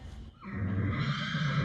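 A horse at a fitting and showmanship class lets out one loud, close whinny that rises and holds for over a second, with no talk over it.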